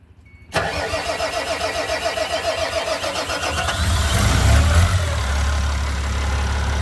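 The diesel engine of a Volvo L90F wheel loader starts abruptly after a brief crank and settles into a loud, close, rhythmic idle, with a deeper rumble swelling as it runs up briefly before steadying.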